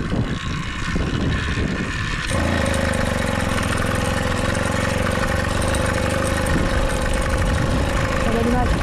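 A small moped engine, restarted after work on its intake, chain and fuel, catches after a couple of seconds of background rumble and settles into a steady, buzzy idle close by, running evenly to the end.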